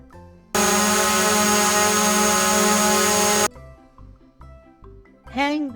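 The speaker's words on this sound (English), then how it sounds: "drone." A flying drone gives off a loud, steady high-pitched motor whine for about three seconds, then stops, followed by quieter sounds and a brief voice.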